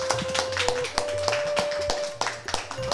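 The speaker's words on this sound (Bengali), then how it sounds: "তো একটা জোরে হাততালি হয়ে যাক তার জন্য।" Applause from an audience at a gathering at an old-age home, a steady spread of hand claps lasting a few seconds with a sustained tone running underneath.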